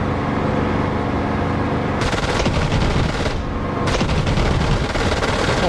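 20mm cannon fire in the DCS flight simulator, loud sustained bursts of rapid automatic fire with a short break between them, over steady engine noise.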